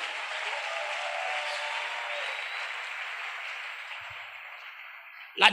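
A church congregation applauds in sustained, even clapping that sounds moderately distant and fills the room, fading slightly before a sharp bump at the end.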